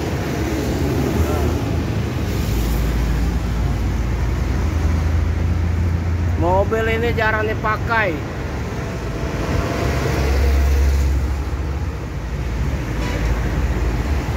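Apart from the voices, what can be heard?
Mitsubishi Triton GLS 4x4 2013 engine running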